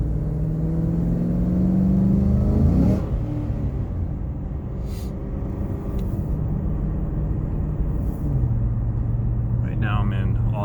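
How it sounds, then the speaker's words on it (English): Engine of a 2017 Chevrolet SS sedan running in touring mode, a low steady rumble with a brief rise and fall in pitch, heard under someone talking. "Right now I'm in touring mode, so it's the quietest option, so you can hear the motor the most."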